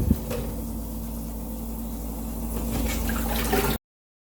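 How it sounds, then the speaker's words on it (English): Water is poured onto beans in a pot for parboiling, a steady close rushing pour that runs for a few seconds before stopping abruptly. "now we're going to add water and parboil"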